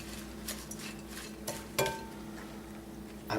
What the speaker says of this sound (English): Then I throw a little bit of my chopped nuts in there. My almonds, mix that a little bit.